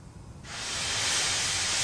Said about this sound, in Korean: 고든은 씩 증기를 내뿜고 역을 빠져나갔어요.